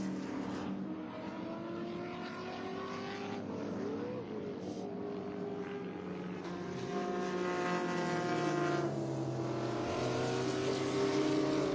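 Race cars run at New Jersey Motorsports Park during an SVRA vintage race, with engine notes rising and falling as cars pass, a steady continuous drone that grows louder toward the end, heard alone without talk.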